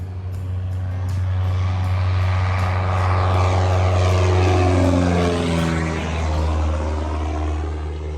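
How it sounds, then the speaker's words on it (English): A Mooney light aircraft flies out at Oshkosh 2021 with a loud propeller drone that swells as it passes close by, then shifts downward in pitch as it pulls away. "That was our buddy Art flying out in his Mooney"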